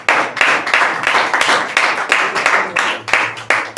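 Audience members at a Manjeet Singh stand-up comedy show clap in loud, close bursts that swell and fade in waves, with brief gaps between rounds and no talk.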